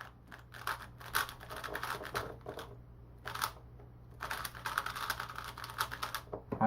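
Keys on a Valk Mini mechanical keyboard clack in quick bursts of typing, close and fairly quiet, with short pauses between the runs of higher-pitched clicks.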